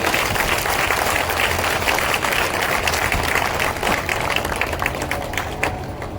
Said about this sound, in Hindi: ऊर्जा होनी चाहिए, तालियों की गड़गड़ाहट होनी चाहिए प्रधानमंत्री जी।